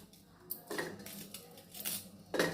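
A knife slices through a vegetable on a board in a home kitchen, giving several short, crisp chopping taps spaced irregularly over a quiet background.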